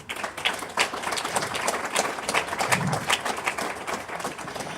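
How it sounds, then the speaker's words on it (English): Audience at an awards event giving a round of applause, a fairly faint, steady patter of many hands that lasts the whole stretch without pause. "you might as well get a round of applause"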